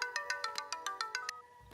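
A phone rings with a bright electronic ringtone, a rapid run of about ten evenly spaced tonal beeps that stops abruptly and leaves near silence.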